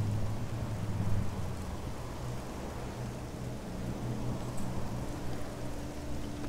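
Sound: rain and thunder in video game Aliens: Colonial Marines

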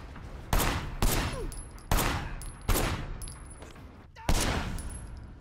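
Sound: gunshots from video game Sleeping Dogs

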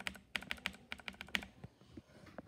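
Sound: mechanical keyboard key lubed with Vaseline and lotion clicking

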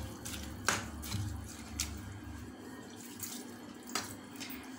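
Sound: water being poured into a pot for drumstick leaf soup

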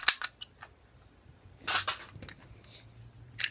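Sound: toy fake gun making pow-pow sounds

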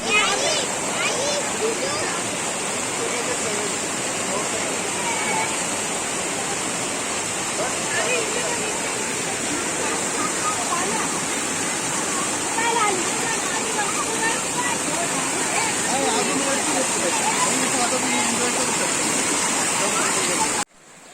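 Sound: river stream water flowing over stones

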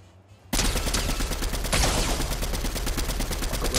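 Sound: gunshots in video game

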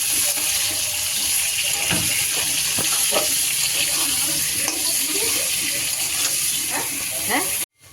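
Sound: potatoes frying until reddish

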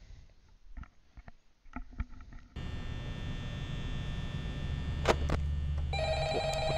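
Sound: telephone ringing in Five Nights at Freddy's video game

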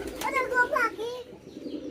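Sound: pigeons

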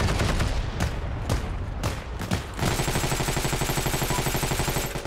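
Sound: MG42 machine gun fire in Heroes & Generals video game

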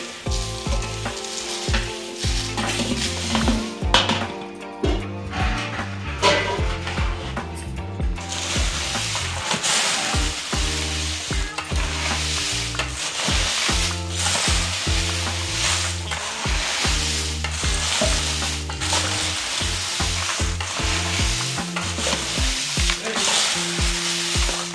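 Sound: stirring and mixing roasted garam masala spices in a pan

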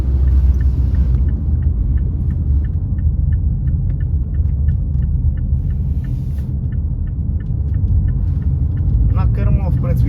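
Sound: engine noise of a Mazda CX-5 driving at 90-100 km/h

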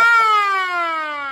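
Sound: old mechanical siren

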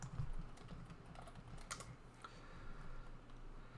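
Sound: typing on a computer keyboard

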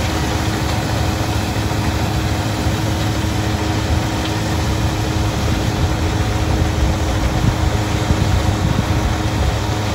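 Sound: tractor engine running without load, straw reaper demo

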